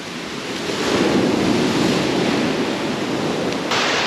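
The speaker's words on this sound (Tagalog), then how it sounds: "Pero dito naman sa part na to ay normal lang naman yung ganyang alon." Ocean surf breaks steadily on the shore at a Philippine beach, a loud continuous wash of waves with wind rumbling over the microphone and no other voices.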